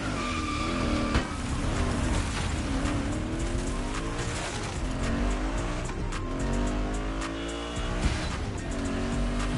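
Roaring muscle car engine in The Crew Motorfest, revving with rising and falling pitch while tyres squeal and skid repeatedly, loud and close throughout.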